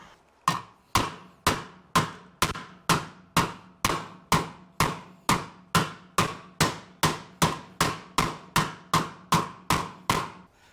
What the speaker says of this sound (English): I'm gonna attempt the shrinking hammer.